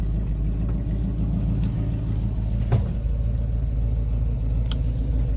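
A 1977 Chevy K5 Blazer, 42 years old, driving with its engine running, a steady loud low rumble that holds constant throughout, heard from inside with road and wind noise.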